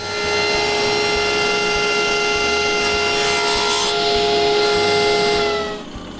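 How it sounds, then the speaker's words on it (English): A table saw with a sled cuts walnut beading tools, its motor giving a steady, bright, whining hum with strong overtones that holds for several seconds before dropping away at the end. "I cut the 2 walnut beading tools by clamping the turn shape to my table saw sled."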